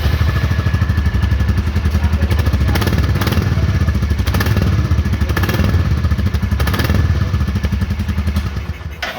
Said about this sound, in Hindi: आवाज़ काफ़ी ज़्यादा स्मूथ और रिफाइंड हो रखी है इस मोटरसाइकिल की।